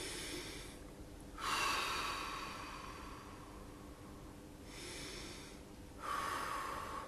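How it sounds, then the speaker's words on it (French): Slow, deep relaxation breathing, air drawn in gently through the nose and blown out through the mouth, two long soft breath cycles heard close up in a quiet room with no talking. "inspirer tranquillement par le nez, souffler par la bouche"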